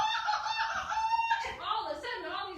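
A person vocally imitates a rooster crowing during a spoken folk tale, a loud drawn-out cock-a-doodle-doo call rising and falling in pitch over about three seconds, close and alone.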